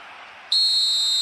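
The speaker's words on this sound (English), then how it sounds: "There's the whistle." Referee's whistle in the eFootball mobile football video game, one sharp, steady high-pitched blast that starts suddenly and holds, loud and alone over faint background hiss.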